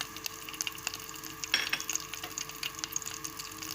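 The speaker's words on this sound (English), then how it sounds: "Now in the oil I will add curry leaves." Curry leaves and spices such as cumin seeds, chili powder, turmeric and coriander sizzling in hot oil, a faint steady crackle with small pops and one brief louder spatter.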